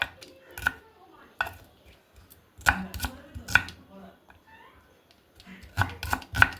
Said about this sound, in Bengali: এইভাবে একেবারে কিন্তু ছোট ছোট করে কেটে নিচ্ছি পেঁয়াজগুলোকে